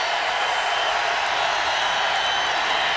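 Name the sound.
football stadium crowd making noise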